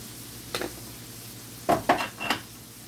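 Onion and garlic cooking in a pan with dried parsley for Jamaican ackee: a quiet sizzle with a few soft stirring scrapes and light utensil clinks, close by, no talking.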